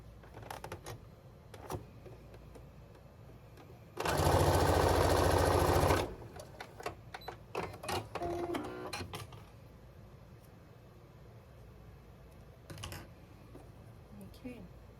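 A sewing machine chain-pieces quilt blocks made from shirts in one loud, steady two-second run of stitching, set among quieter handling clicks and taps.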